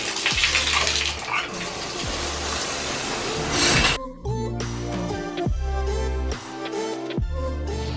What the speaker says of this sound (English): now it's shower time